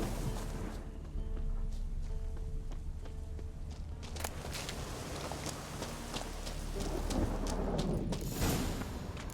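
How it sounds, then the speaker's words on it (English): A thunderstorm with rain in The Witcher 3 gives a low, continuous rumble with scattered thuds and rising rain hiss, while footsteps or hooves plod underneath. "A storm, damn it."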